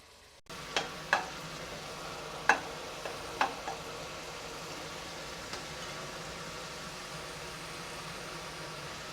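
Fish curry masala with curry leaves frying in a pan, a soft steady sizzle with a few sharp clicks and taps of a spoon near the start, then a continuous low crackle with no voices.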